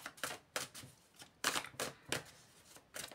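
Tarot cards for a reading are shuffled in quick, crisp riffles and taps, about a dozen irregular bursts close to the microphone, fairly quiet, with no talking.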